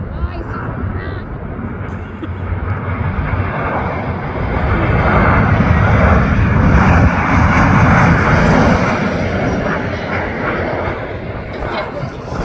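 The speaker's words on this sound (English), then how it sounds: "So this is a private jet right here." A private jet at BWI Airport roars steadily nearby, a broad engine rumble that swells toward the middle and then eases slightly, with people talking over it.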